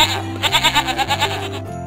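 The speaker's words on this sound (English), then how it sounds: "G as in goat." Goat bleat from a children's animal alphabet game, a single wavering, pulsing cry lasting under two seconds, loud and close with no talk over it.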